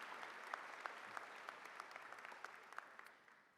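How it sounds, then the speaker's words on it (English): An audience applauds at a commencement ceremony, with a steady patter of many hands clapping at moderate distance that slowly fades toward the end. No voices break through. "Could we have one more round of applause for the Romano family"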